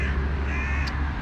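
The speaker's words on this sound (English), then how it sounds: "Oh, it's seagulls. The seagulls are coming." Gulls give harsh, raspy calls in quick succession against a constant low rumble of background noise, one brief higher cry standing out near the end.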